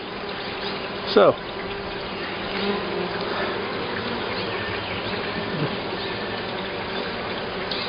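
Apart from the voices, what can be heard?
honeybees buzzing at open hive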